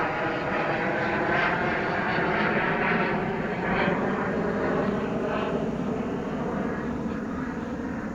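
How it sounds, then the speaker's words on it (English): Private jet flying near an airport, a loud continuous engine roar that holds steady throughout, close and unbroken with no talking. "There's an airplane. We're kind of close to the airplane, to the airport. That's a private jet."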